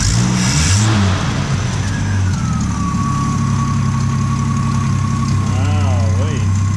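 A 1964 wagon's engine idles smoothly after a cold start, a steady close low rumble with a faint whine running over it and someone talking at the start.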